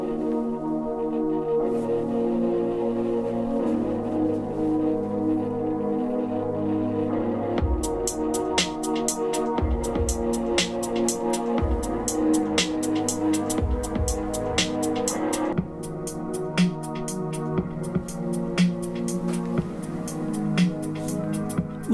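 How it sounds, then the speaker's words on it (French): Music or TV soundtrack played through a Sharp HT-SBW800 5.1.2 Dolby Atmos soundbar with its wireless subwoofer, dense and continuous with heavy low bass, sharp percussive hits and a steady level throughout. "ça va être avec la barre de son Sharp SBW800 et le caisson wireless qui est donc connecté à la barre de son."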